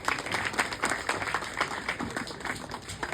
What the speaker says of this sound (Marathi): त्यांच्यासाठी टाळ्या झाल्या पाहिजे.